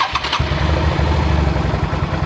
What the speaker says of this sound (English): And it's pretty quiet for a V-twin, right?